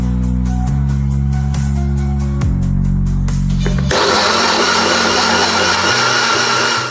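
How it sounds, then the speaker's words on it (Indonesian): An electric kitchen blender runs loud and steady, whirring through salt, sugar, chili, a little cooking oil and water for homemade mayonnaise, its motor pitch stepping down a few times before shifting into a harsher, fuller roar. "blender bareng garam, gula, cabai, sedikit minyak goreng,"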